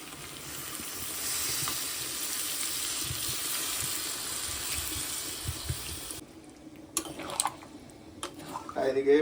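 Water pours into a simmering home-style chicken curry, a steady hiss and sizzle filling the first six seconds before breaking into splashy bursts and clatter near the end; speech is faint in the background.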